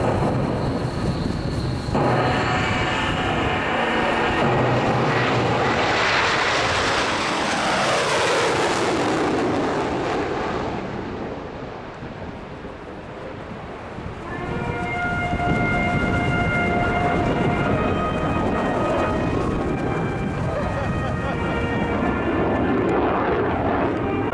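Loud jet engines of an aircraft powering up for an overshoot at the 2009 Australian International Air Show roar and swell as power rises, the pitch sweeping up and down, dipping briefly before surging back to a sustained, powerful drone.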